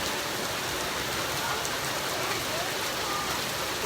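Steady rain pours down outdoors at a family restoration center in Ghana, a dense even hiss of drops on surfaces that continues unbroken throughout the recording.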